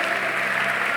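A church congregation applauds in praise, a dense, steady wash of clapping hands filling the whole second with no voices standing out.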